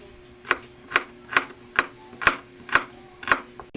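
A knife slicing onion on a board in a kitchen, seven evenly spaced crisp chops in a steady rhythm, close and clear, with no talking.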